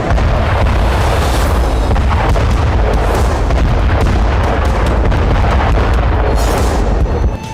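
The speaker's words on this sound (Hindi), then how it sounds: "रात के अंधेरे में इजरायली एयरफोर्स ने दक्षिणी लेबनान में 4 बड़े विस्फोट किए।" Israeli air strikes in southern Lebanon at night set off a series of loud, heavy booms, several deep blasts rolling out one after another over a rumbling background.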